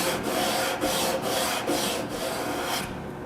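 A hand rubs across sanded MDF fill on the inside of a painted case, giving a steady close dry rasping scrape in repeated back-and-forth strokes that fades out near the end.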